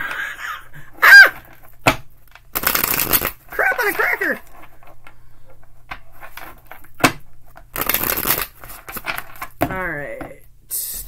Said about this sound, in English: I need to shuffle it anyway.